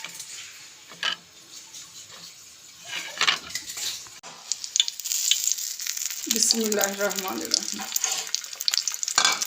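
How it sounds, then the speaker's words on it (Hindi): Chicken shami kababs dipped in beaten egg sizzle and fry in a pan, with a steady crackle, clinks of utensils and scraping as they are turned; a brief spoken phrase sounds early on. "3 शामियाँ हम एग के साथ फ्राई करेंगे"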